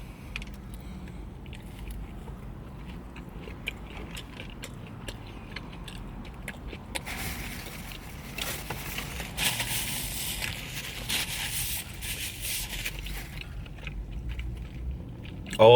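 Someone bites into and chews a McDonald's Australia Spicy Mayo McChicken burger with extra cheese, giving quiet, close crunching and mastication sounds over a soft background, with no talk.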